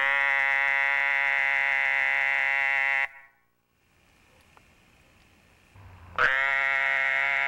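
A small frog calling at a pond in Paraguay, a loud continuous buzzing trill that runs for about three seconds, breaks off into near silence with faint background, then resumes just as loudly.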